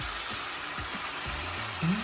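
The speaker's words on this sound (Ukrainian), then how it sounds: "Смажимо на майже максимальному вогні." Pieces of liver fry in a pan over near-maximum heat, giving a soft, steady sizzle close to the mic, with faint clinks and a brief low rise near the end.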